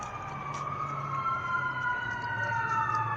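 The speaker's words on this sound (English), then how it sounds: "Oh, now we got sirens." A wailing emergency siren rises and falls steadily in the distance over low road rumble in Bakersfield, near the county hospital, moderately faint.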